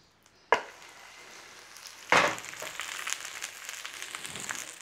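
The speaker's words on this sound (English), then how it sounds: "we're going to take our Cornish fry, and we're going to invert that in our pan" Raw Cornish fry tipped into a hot pan over a flame bursts into a loud sizzle at about two seconds, after a sharp clatter at the start, then settles into steady frying hiss with small crackles; no voices.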